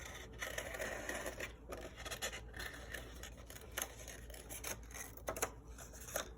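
Scissors cut around blue paper for a second-grade Kandinsky trees collage, making faint, close snipping and rustling with soft scraping and no talk.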